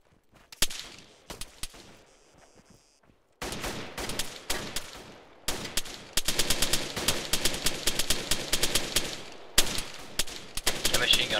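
Machine gun fire in the Arma 3 tactical shooter, heard as sustained automatic bursts and scattered shots, with sparse gaps at first, then dense, loud and rapid-fire toward the end, with no talk over it.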